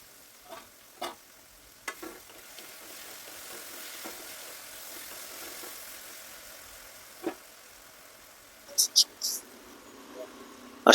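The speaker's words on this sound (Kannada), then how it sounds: "ಈ ಎಣ್ಣೆ ಒಳಗೆ ಫ್ರೈ ಮಾಡ್ಬೇಕ್ರಿ." Ingredients for avalakki bisibele bath, a flattened-rice dish, fry in oil: a soft, low sizzle with occasional stirring scrapes and clicks, and a brief burst of brighter crackling near the end.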